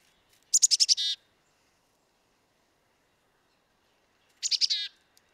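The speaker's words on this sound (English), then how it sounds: "some of their recognizable calls is, of course, their unique chickadee call" Recorded black-capped chickadee call played back twice, each a bright quick burst of rapid notes, separated by about three seconds of silence.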